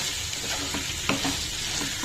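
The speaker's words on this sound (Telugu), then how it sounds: "మూత పెట్టేసి ఒక 1 మినిట్ ఫ్రై అవనిద్దాం" Chicken frying in a pan with mixed spices, a dense continuous sizzle with a few light stirring knocks, close and steady.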